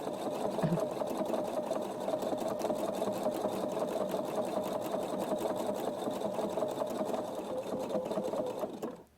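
A sewing machine stitching circles on a quilt runs continuously at steady speed, a close, even mechanical whir and rapid needle clatter throughout, stopping just at the end.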